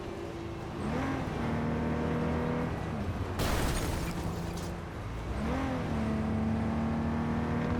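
A racing game car engine drones and revs with rising and falling pitch sweeps, a brief burst of hissing noise in the middle, sustained and moderately loud with no speech.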